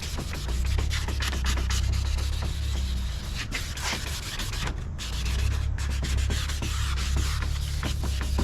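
Steady abrasive rubbing of sandpaper across a plastic car headlight lens, continuous back-and-forth scraping at close range with brief pauses, no voice.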